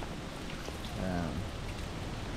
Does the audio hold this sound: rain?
yes